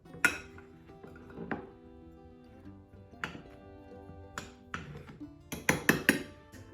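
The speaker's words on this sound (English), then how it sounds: "I'm going to mix my ingredients well now" Vegan apple custard ingredients are mixed in a bowl, with sparse, sharp clinks and knocks of a utensil against the dish, spaced irregularly and bunching into a quick flurry at the end.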